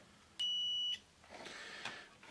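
Multimeter set to continuity test mode giving one short steady electronic beep, followed by faint handling and rustling.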